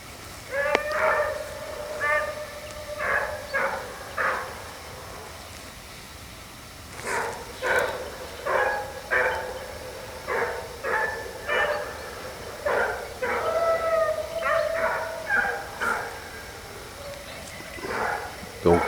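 A pack of grand bleu basset hounds bays while trailing a hare, sending out repeated bursts of deep, ringing cries in uneven groups at moderate distance, with short quiet gaps between them.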